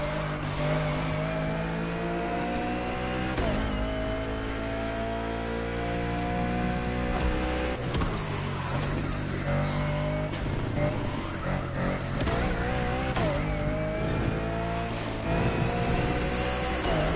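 A race car engine in The Crew Motorfest driving game roars steadily and loudly throughout, with repeated rising revs, gear shifts and occasional tire squeal during a racing event.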